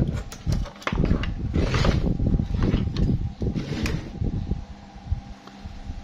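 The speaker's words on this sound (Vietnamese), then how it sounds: "thì quạt nó chạy đây" An electric fan runs in an automatic shut-off fan setup for fishing, giving a rumbling whir with some handling knocks and clatter, close by and steady throughout.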